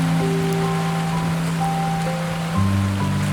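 Heavy night rain at a river in the Amazon rainforest, a steady loud hiss of downpour with constant low tonal hums running underneath and a slight shift near the end.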